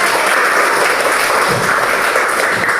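Classroom applause from a group of pupils, a dense, steady clapping that stays loud and close for the whole stretch with no voices over it.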